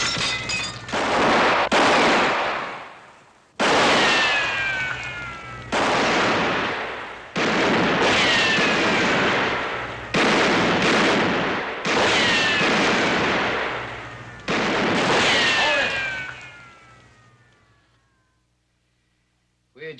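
Gunfire in a western shootout rings out as a series of loud sharp shots with long echoing ricochet tails, spaced irregularly, then fades to silence near the end.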